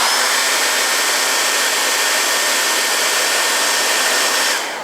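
A hair dryer blows steadily on sinamay fabric, a loud, continuous broadband whoosh that holds even for nearly five seconds before easing off at the very end, with no talk over it.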